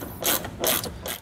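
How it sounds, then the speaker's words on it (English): A ratchet fitted with a 15 mm socket cranks down the bolts of a Draw-Tite Max-Frame trailer hitch receiver, giving three quick, loud, close clicking bursts in an even rhythm. "go ahead with your ratchet and your 15-millimeter socket and you can tighten these down"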